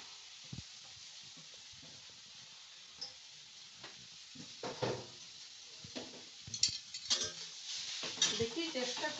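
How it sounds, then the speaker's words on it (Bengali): Carrots frying in ghee with bay leaves in a home kitchen, a soft sizzle with scattered spoon-on-pan stirs and clinks that grow louder and busier toward the end. "তারপর আমি একটু গাজরটাকে ভেজে নেব।"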